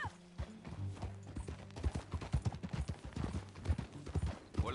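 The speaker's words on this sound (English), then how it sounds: "That a new horse?" Horse hooves clip-clopping at a steady walking rhythm in Red Dead Redemption 2, soft and fairly distant, with the repeated hoof hits running through the whole stretch and no talk over them.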